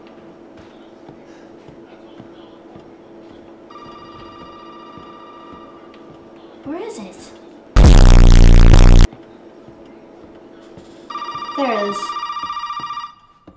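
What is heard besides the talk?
phone ringing in Resident Evil 7 video game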